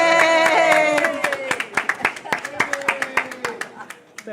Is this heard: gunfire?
no